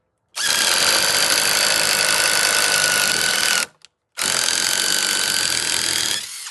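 A Sturmax CDM3212CLBS cordless impact driver fitted with an 8 mm wood drill bit bores into wood in two long, loud, steady whirring bursts separated by a short pause.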